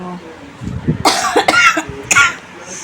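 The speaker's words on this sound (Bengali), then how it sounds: "এরকম কাশি হচ্ছে" A person who feels unwell after eating fuchka coughs three times in harsh, close bursts, with a short breathy pause between each cough.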